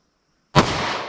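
A single sharp gunshot from a short 3.3-inch-barrel pistol firing .45 ACP 185-grain Corbon DPX ammunition, a loud abrupt crack after silence followed by a brief ringing tail.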